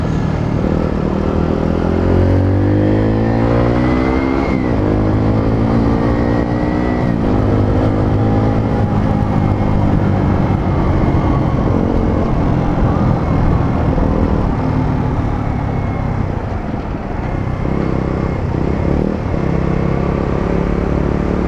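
A Bullit Hero 125 motorcycle drones continuously through its exhaust while riding, the engine pitch rising and falling with gear changes, loud and close throughout.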